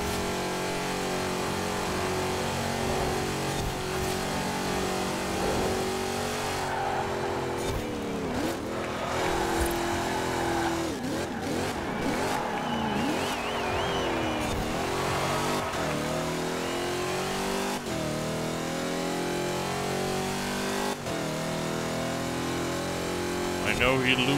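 A Chevrolet Camaro IROC-Z races in Forza Horizon 4, its engine revving and shifting loudly through continuous acceleration with tire noise, while a voice talks over it at times.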